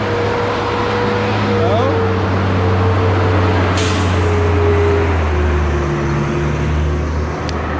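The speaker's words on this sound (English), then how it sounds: "There was plenty of room for the trash truck." A trash truck rumbles past with a continuous low engine drone and a brief hiss of air brakes midway through, and people talk faintly in the background.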